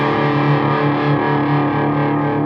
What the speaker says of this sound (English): Now there is a distortion channel